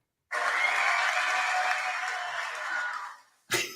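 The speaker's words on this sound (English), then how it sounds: "We need like a crowd sound." A crowd applause sound effect plays back as a sustained wash of clapping that starts abruptly, holds for about three seconds and then dies away, followed by a brief sharp noise.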